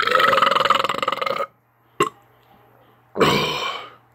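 A long, loud, close burp after a drink of Bang energy drink in Krazy Key Lime Pie flavor, then a short throat sound, and a second loud burp near the end, with silence in between.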